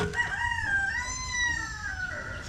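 A rooster crows once, a long wavering cock-a-doodle-doo heard fairly clearly over faint background noise.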